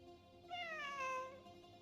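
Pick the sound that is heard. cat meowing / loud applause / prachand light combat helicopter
cat meowing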